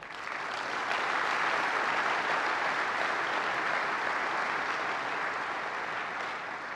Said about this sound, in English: Please give these volunteers a round of applause for all of their work.